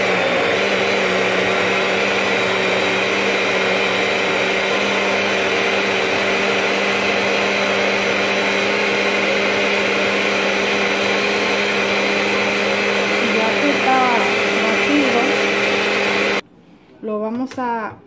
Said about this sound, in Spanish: Y vamos a continuar, terminar lo de licuar.